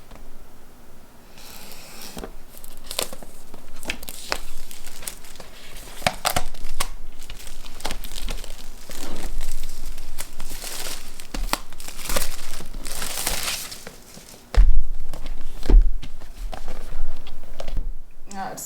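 Loud crinkling and tearing of plastic and paper wrapping on a MacBook Pro box, rustling in bursts up close, with a voice speaking intermittently underneath.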